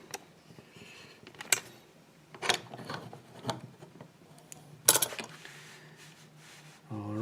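A SECUREMME six-pin dimple lock is set into a metal vise and clamped, making scattered close metallic clicks, scrapes and clunks with a louder clank near the end, and no talking.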